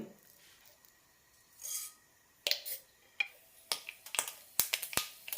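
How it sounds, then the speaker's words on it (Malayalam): Mustard seeds in a teaspoon of hot oil begin to crackle, with sharp, scattered pops that come faster as they go, close and fairly quiet over a near-silent background. "കടുക് പൊട്ടാൻ തുടങ്ങിയിട്ടുണ്ട്"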